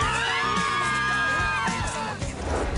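A group of riders shouting and whooping together, recreating their screams from the Aerosmith Rock 'n' Roller Coaster at Disney; dense, loud crowd-like yelling sustained throughout, with mixed voices overlapping.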